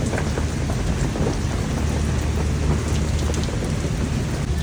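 Steady heavy rain from a storm in Lahore pours down with a low rumble of thunder rolling underneath, dense and continuous throughout.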